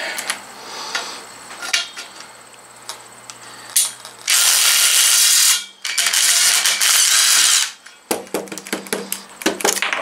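A ratcheting wrench clicks against a bolt treated with penetrating aerosol lubricant, with scattered metallic ticks and two long, loud, harsh mechanical bursts, close-up, followed by more clicking.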